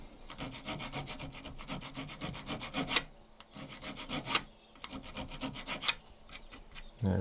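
Rasping file strokes shaping the corner of a wooden arrow shaft for a medieval longbow arrow, a close, steady series of scraping back-and-forth strokes in a regular rhythm with brief pauses between bursts.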